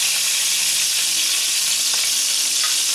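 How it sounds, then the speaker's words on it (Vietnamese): Mackerel scad frying in shallow oil in a pan makes a loud, steady, hissing sizzle that fills the whole stretch without a break. "Nhưng mà do mình chiên không có ngập dầu cho nên nó giòn ở ngoài"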